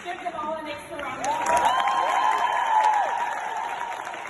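Applause from an awards ceremony audience rises and holds steady for a few seconds, a soft continuous patter of many hands mixed with faint crowd noise.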